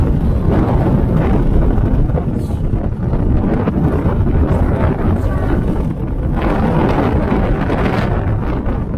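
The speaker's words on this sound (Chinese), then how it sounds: "风太大了" Strong wind buffets a motorhome on a road near Baotou in a violent storm, a loud continuous roaring rush with gusty surges against the vehicle, heavy low rumble throughout and no clear talk.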